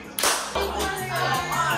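A group of people at a house party clap hands together, a loud burst of sharp claps opening the moment, followed by scattered, ragged clapping mixed with background noise.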